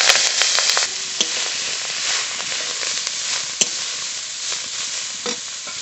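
Khesari greens dropped into hot oil with whole garlic, chili and radhuni seeds: a loud, steady frying sizzle with a hiss, broken by a few sharp pops and stirring scrapes, with no talk.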